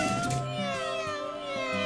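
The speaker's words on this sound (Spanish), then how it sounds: "Son los adorables gatitos de Titi." Several high, thin kitten meows overlap in quick succession, close and clear, with a soft background tone beneath.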